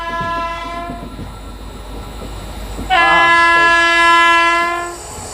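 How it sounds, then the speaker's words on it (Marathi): A passing Indian railway train rumbles close by, then a long, loud horn blast sounds and holds for about two seconds before fading back into the rolling noise. "और कौन सी तो ट्रेन पास हो रही है"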